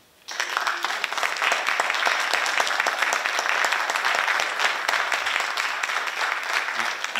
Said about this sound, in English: I don't know if you can hear the applause, Bob, but it's loud and clear.